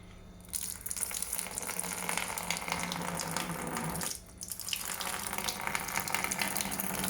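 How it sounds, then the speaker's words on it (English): Witbier wort cooled to 24 degrees is poured from the kettle through a strainer into a fermenter, a steady close splashing gush that briefly breaks off midway and then resumes. "we are at 24 degrees in the kettle, so it's time to start pouring"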